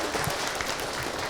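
An audience claps together in a steady, dense burst of applause at an Indonesian community gathering, with no speech over it.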